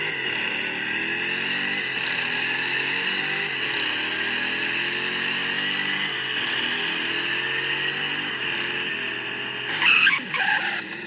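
Car tires screech in a long sustained skid in a driving video game, loud and continuous with engine tone beneath, ending in a brief burst of harsher scraping.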